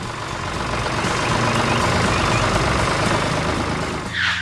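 A red cartoon tractor plows a field, its heavy engine giving a steady, loud rumbling drone throughout, with a short hissing burst near the end.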